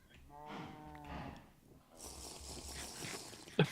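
Cows moo in a video game, two drawn-out low lowing calls with a brief gap, fairly quiet, followed by a burst of noisy clatter at the end.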